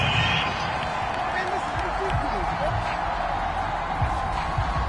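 A football stadium crowd at a Browns versus Jaguars game roars in sustained, angry disapproval after a penalty flag on third down. The steady broadband noise fills the whole stretch under a commentator's talk.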